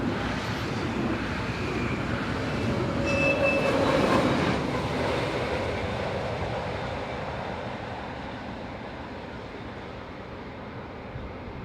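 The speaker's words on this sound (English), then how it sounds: "here it catches this 143177 operated service bound for Köln" A class 143 locomotive hauling an S-Bahn service bound for Köln rumbles past at moderate distance, a broad steady rail roar swelling toward the middle and slowly fading away.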